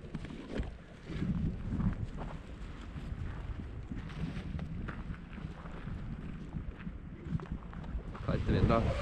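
Cold wind buffets the microphone on a mountainside at Loen during a speedflying outing, a steady rumbling gust that swells and eases throughout and grows stronger toward the end.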